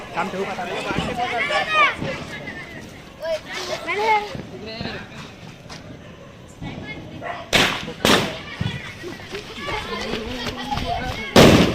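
A homemade firecracker bomb set off during Diwali gives a few sharp, loud bangs with short broadband bursts, amid excited voices talking and shouting nearby.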